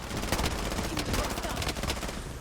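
Gunfire in the video game Blood Strike: rapid bursts of sharp shots crackling in quick succession, loud and dense throughout with some faint game noise behind.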